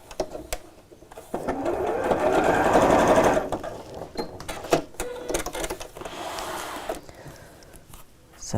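A sewing machine runs a seam along the allowance of a quilted tote bag, a close whirring stitch burst swelling and easing, followed by scattered clicks and handling noises.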